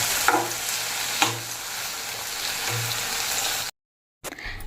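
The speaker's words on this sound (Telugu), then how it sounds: "గోల్డెన్ బ్రౌన్ వచ్చేంత వరకు వేసుకొని ఆలు కూడా వేసి ఫ్రై చేసుకోవాలి." Onions and potatoes fry in a pan until golden brown, a close continuous sizzle with periodic scraping stirs, ending with a short silent gap before the frying resumes.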